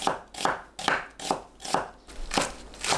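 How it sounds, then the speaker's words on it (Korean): Knife slicing an onion into thin strips on a cutting board, about seven crisp, evenly spaced chops heard up close in a quiet kitchen, with no talking. "양파를 가늘게 채 썰어 주세요."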